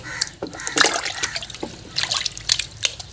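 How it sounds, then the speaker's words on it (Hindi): A mango is washed under running tap water, with splashing, dripping and irregular bursts of water hitting the fruit and hands, close and fairly loud. "इसको काट लेते हैं पहले धो रहे हैं अभी हमको"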